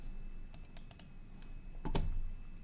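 Keys clack on a computer keyboard in a quiet room, a handful of light, scattered taps followed by a slightly heavier cluster of strokes, close and soft.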